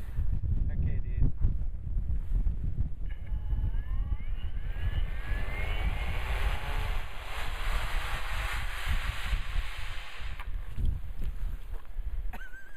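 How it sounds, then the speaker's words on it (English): An electric motor on a SPAD Gnat model airplane spins up for its maiden flight, a whine rising in pitch under steady wind buffeting on the microphone, heard nearby and continuing for several seconds. "We're gonna start up the motor."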